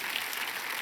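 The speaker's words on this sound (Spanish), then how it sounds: "dale a Dios un aplauso por esta verdad" Audience applause at a church sermon, a steady wash of many hands clapping throughout without a break, with no talk over it.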